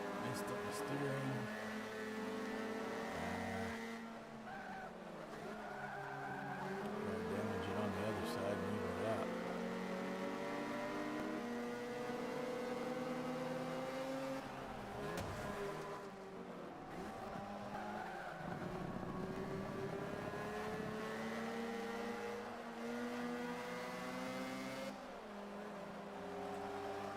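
Sport compact car racing around the Road Atlanta circuit in Forza 5, its engine droning steadily with rising and falling pitch through gear changes and swerves, loud and continuous for the whole stretch.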